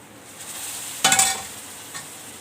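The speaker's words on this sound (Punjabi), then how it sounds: "ਹੁਣ ਇਹ ਚ ਪਾਈਏ ਆਪਾਂ ਦਾਲ" Whole masoor dal is poured into a hot tempering of red chilli and spices in a home kitchen pan. It gives one short, sharp burst of sizzling that quickly fades to a faint crackle, with no talking.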